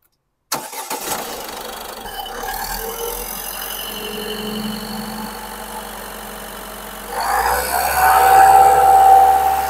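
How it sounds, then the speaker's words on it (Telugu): A Ford EcoSport engine cranks and catches, then settles into a steady idle before revving louder near the end, heard close up with no talking. "ఒకసారి ఇంజిన్ స్టార్ట్ చేసి ఇంజిన్ కండిషన్ కూడా ఒకసారి మీకు చూపిస్తాను"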